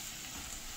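Vegetables with fresh coconut sautéing in a pan for rawa khichdi make a soft, steady, faint sizzle that lasts under a second.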